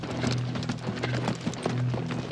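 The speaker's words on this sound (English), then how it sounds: "These horses are Army property." Horses' hooves clip-clop at a steady walking pace on hard ground, several animals close by, with a brief low snort and no talking.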